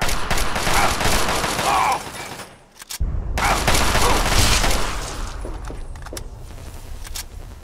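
Dense, continuous gunfire from Fallout 3's Operation: Anchorage expansion, with rapid overlapping shots, a brief drop near the three-second mark, then sustained volleys that gradually soften.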